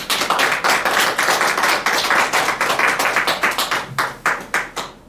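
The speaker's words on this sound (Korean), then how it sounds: "우리 서로 축복하면서 다시 한번 박수 한번 칠까요?" A church congregation claps in a brisk, fairly even rhythm, many hands striking together in distinct repeated beats that loosen and slow slightly near the end.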